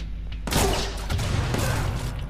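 A burst of gunfire from a gun in Watch Dogs 2, a loud booming volley that erupts after a brief quiet moment and keeps rumbling and crackling to the end, with no one talking.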